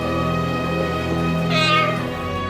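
A parrot imitating a cat's meow: a drawn-out, tonal, harmonic meow-like call, close and loud, rising in pitch midway before trailing off.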